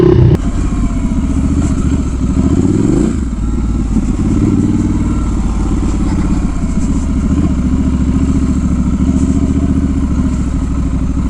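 A Triumph Scrambler 1200 XE motorcycle ridden through very soft sand, its engine a loud, steady close drone throughout, with rising pitch as the throttle opens and some clatter, no talking.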